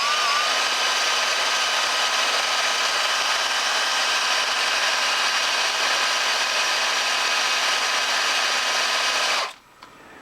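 A power sander works sandpaper over a hundred-year-old water pump, a steady loud whine with a low hum running unbroken for about nine seconds before cutting off abruptly.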